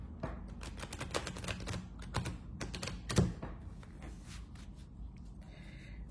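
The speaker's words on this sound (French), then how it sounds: "Alors, je vais battre les cartes." Tarot cards are shuffled by hand in quiet, close, papery clicks and slaps, coming in irregular bursts with a soft thump partway through.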